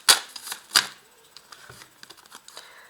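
Tarot cards handled and laid out on a table: a couple of brisk riffling swishes up front, then soft scattered taps and slides of cards being placed, close and quiet.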